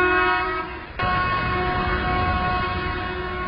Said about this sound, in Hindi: ड्राइवर जब एक छोटा सा हॉर्न दे तो ये पीछे के गार्ड को तैयार रहने का इशारा होता है